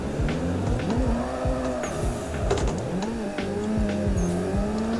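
Modded drift car in the Assetto Corsa video game warming its tires, with a revving engine bouncing off the limiter and repeated tire squeals and skids, loud and close, with no talking.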